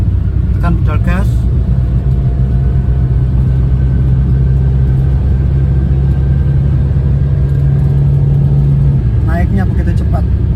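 A car with a remapped ECU accelerates from about 130 km/h, a steady low engine rumble and road noise inside the cabin as a person talks.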